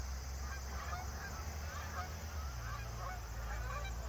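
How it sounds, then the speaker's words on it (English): Geese honk repeatedly as they fly overhead toward the listener near East Hampton, a steady chorus of calls over a constant low rumble of wind or distant traffic. "These geese are flying right at us."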